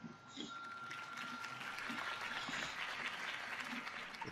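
Steady crowd applause in a Batman video game scene after a Harvey Dent campaign speech, a dense, even wash of many hands clapping at a distance, fairly faint and without talk.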